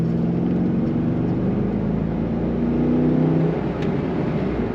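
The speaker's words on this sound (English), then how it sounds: "Excellent acceleration as you'd expect from a Corvette" A 2004 Chevrolet Corvette convertible accelerates hard, its V8 rising in a strong, steady roar heard from close by inside the car, with a brief faint click near the end.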